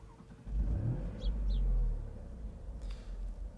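A Maserati GranCabrio Trofeo convertible with its top down and a Ferrari-derived engine cranks and fires up, the engine catching with a deep rumbling flare that settles into a steady idle close by.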